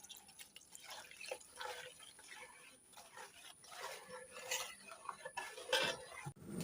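Jackfruit payasam with coconut milk is stirred in a pot, producing soft wet sloshing and light scraping with occasional faint metallic taps, quiet and continuous.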